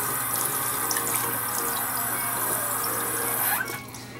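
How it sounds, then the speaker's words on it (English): Water from a tap runs steadily while a makeup brush is wetted before cleaning with brush shampoo, a continuous close hiss that cuts off near the end. "what I'm gonna do is wet the brush first"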